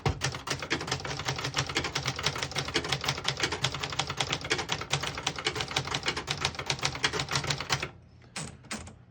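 Rapid, even clacking of a 1966 Brother Webster XL-500 portable manual typewriter's keys, close and crisp, going on for about eight seconds before stopping with a few last strokes.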